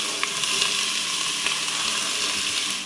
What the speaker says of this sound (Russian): Прошло 3 минуты, отправляем обжариваться лук и